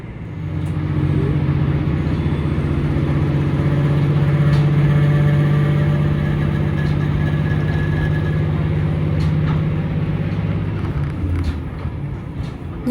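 A diesel train engine on the JR Dosan Line in Kochi, Shikoku, roars with a steady, loud low drone and a rumbling hum that holds throughout before easing slightly near the end.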